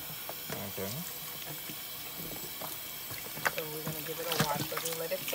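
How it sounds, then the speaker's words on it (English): Tap water runs steadily into a sink with a constant splashing rush, close by, while people talk over it and dishes clink. "so now we're going to add water"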